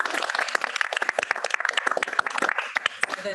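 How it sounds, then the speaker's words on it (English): A conference audience in Stoke-on-Trent breaks into a round of applause, dense overlapping hand claps filling the room at a steady, fairly loud level with no speech over it. "That's definitely worth a round of applause."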